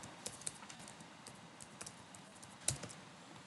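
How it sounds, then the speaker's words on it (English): Keystrokes on a computer keyboard during software work, a few scattered light clicks with one sharper tap near the end, close and quiet against faint room noise. "I can directly come and start typing here"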